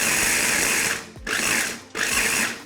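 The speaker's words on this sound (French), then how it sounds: "Et maintenant, je vais mixer." An electric blender whirs through a batch of spices including chili powder and salt for Hausa-style brochettes, running in three loud continuous bursts with brief pauses between them, no voices.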